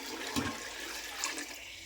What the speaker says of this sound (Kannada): ಮಟನ್ನಿಂದ ತೆಗೆದ ನೀರು ಹಾಕ್ತಾ ಇದ್ದೇನೆ.